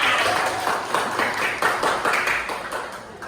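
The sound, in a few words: class clapping hands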